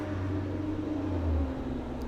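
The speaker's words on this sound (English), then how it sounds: "Cars are so loud out here." Outside traffic gives off a low, steady rumble of cars passing, with a drone that swells briefly as one goes by.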